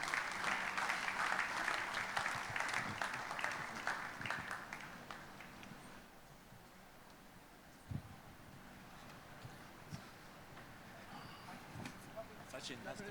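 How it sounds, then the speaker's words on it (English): An audience at a celebrity launch event applauds loudly, and the clapping tapers off into a quieter room with scattered claps. "Please welcome them on stage with a warm round of applause"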